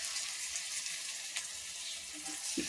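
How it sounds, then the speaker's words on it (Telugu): Green chilies and chopped garlic fry in a pan for Gobi Manchurian, giving a steady, close hiss of sizzling oil that runs throughout, with a few faint clinks toward the end and no talking. "లైట్గా వేగనిద్దాం దీన్ని."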